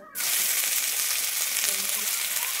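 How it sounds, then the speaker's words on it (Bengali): Chopped onion drops into hot oil already holding nigella seeds and bay leaves, erupting into a loud, continuous close-up sizzle that holds steady throughout. "আমি এবারে দিয়ে দিচ্ছি কুচানো পেঁয়াজ"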